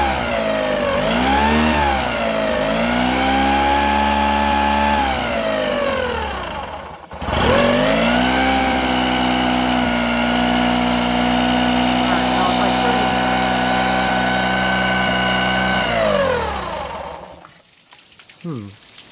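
A Mercury four-stroke outboard boat engine runs at a high idle with the choke on, giving a steady mid-pitched drone with wavering revs and a brief dip before cutting out near the end, with no talk over it.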